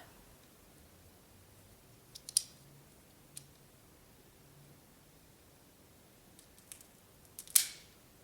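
A cigar being cut with a cigar cutter, a couple of crisp snips and clicks at separate moments over a quiet room hiss.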